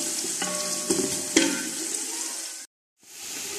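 Onions frying in a pan give a steady sizzle with a few sharp stirring clatters, then a brief drop to silence before the sizzle resumes.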